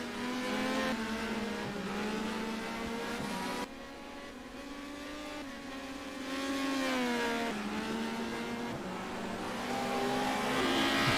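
Touring cars racing and sliding at Oran Park, loud engines wailing and revving through gear changes with tire squeal, cars passing close and then trailing off.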